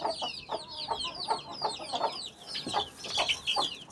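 Several hens cluck and squawk close by in a busy, overlapping chatter, with quick repeated calls and no talking.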